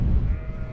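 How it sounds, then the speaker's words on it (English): A sheep on a misty Pennine moor above an old quarry gives a short, close bleat, a single brief call heard alone with low wind rumble behind it. "There's a sheep over there."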